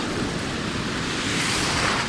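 Pacific Ocean surf washing in around someone standing waist-deep in the water, a steady, loud, close rush of churning waves and spray that fills the whole stretch without pause.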